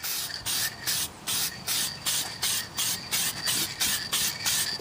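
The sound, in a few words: spraying a light coat onto jukebox wood cabinet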